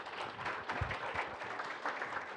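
An audience gives a brief round of faint, distant applause for students coming onto a banquet stage.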